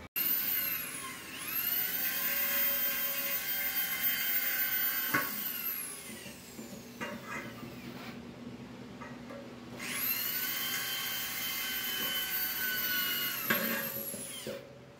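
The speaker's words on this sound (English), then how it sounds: "He just drilled" A power drill whines at high speed during renovation work on a 1984 RV, running in two long sustained bursts with a brief pause between them, loud and close with no talking.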